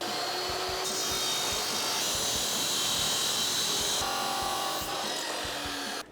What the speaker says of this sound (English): And then we can take this over to the saw and make our cut.